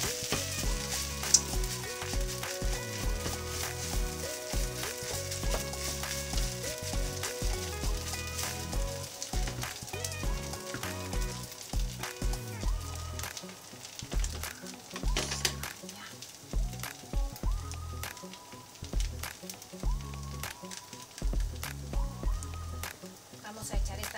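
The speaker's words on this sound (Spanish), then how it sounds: "ahora vamos a pasar a echar nuestra salsa de tomate" Tomato sauce goes onto browned minced meat sizzling in a pan for a meat lasagna, with a busy crackling fry and stirring running the whole time beneath a person talking.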